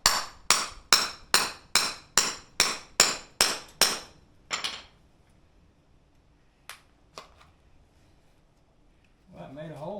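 A hammer strikes a plywood door panel for a 1932 Studebaker, about ten sharp evenly spaced blows in quick rhythm, then a few scattered taps and a faint rustle near the end, close and clear.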